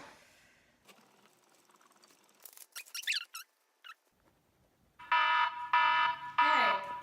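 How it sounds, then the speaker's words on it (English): A few faint clicks and squeaks, then a loud electronic alarm beeps in three repeated bursts, close and piercing. "Hey, the alarm just went off."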